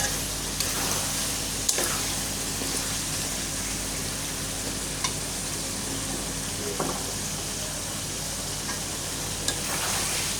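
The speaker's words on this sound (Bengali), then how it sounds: "নিবু নিবু জালে সুন্দর করে কষাবো, তরকারিটা খেতে সুস্বাদু হবে।" Curry is stir-fried slowly over a low flame, a soft continuous sizzle with a few brief scrapes and clicks from stirring scattered through it.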